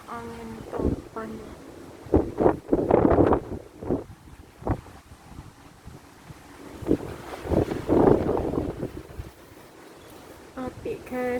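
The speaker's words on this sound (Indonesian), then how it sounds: "ono angin topan." A strong whirlwind gusts outdoors, buffeting the microphone in rough bursts of roaring wind noise that swell and fade while a person talks over it.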